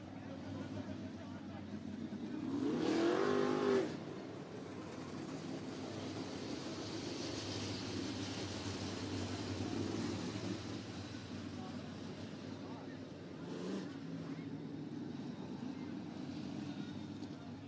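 IMCA Modified race cars at Cottage Grove Speedway in Oregon roar around the dirt oval in a heat race, with a steady engine drone that swells as a car passes close at the start and again briefly later, under a commentator's voice.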